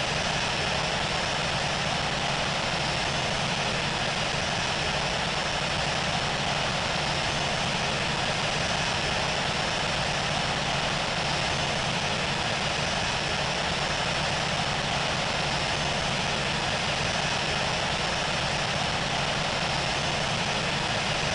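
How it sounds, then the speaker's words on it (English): A heavy airliner, China Southern 930, powering up for takeoff on Heathrow runway 27 left, a steady loud engine roar and broad rushing noise holding constant without break. "Cleared for takeoff, runway 27 left, China Southern 930 Heavy."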